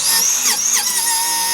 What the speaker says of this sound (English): In my case, I'm doing the easy thing and cutting the brake line.